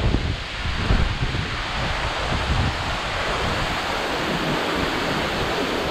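Babarakanda waterfall in Sri Lanka pouring heavily, a dense unbroken roar of rushing water, loud and close throughout with no voices.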